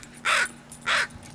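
Two harsh crow caws ring out in a park, about half a second apart, loud and fairly close over faint background hum.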